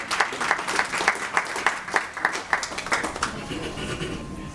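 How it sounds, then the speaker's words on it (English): A conference audience at a disabilities event gives a sustained round of applause, with clear rhythmic claps in the foreground that fade toward the end of the clip. "please give her a round of applause"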